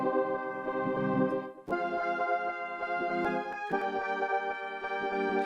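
Synth one-shot melody triggered over MIDI in stretch mode, a steady run of evenly timed plucked notes with bright harmonics, played alone at moderate level.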